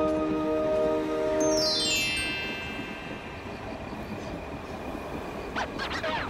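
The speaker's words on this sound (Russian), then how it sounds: "Тук-тук-чок-чок, тук-тук-чок-чок." A cartoon train rolls along the rails with a steady rumble and a high squealing tone that slides downward, followed by faint clattering.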